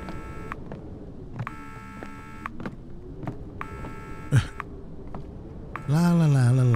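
Telephone keypad tones and dialing beeps in an indie horror video game, repeated in bursts, ending with a louder ringing or busy-type tone, with a person talking over it.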